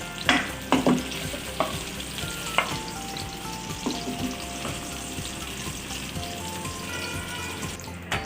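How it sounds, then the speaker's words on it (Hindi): Eggplant pieces fry in hot oil in a pan for potato and eggplant curry, giving a steady close sizzle and crackle with a few louder stirring scrapes and clinks. "और इनको अच्छी तरह से फ्राई कर लेंगे। इनको हाफ डन करना है।"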